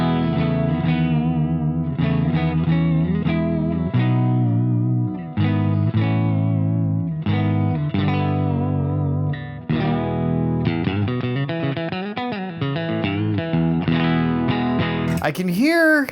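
A distorted electric guitar, modified 1965 Fender Mustang with middle pickup soloed, plays a sequence of chords and single notes with chorus-like shimmer, loud and alone, ending in a brief noisy burst.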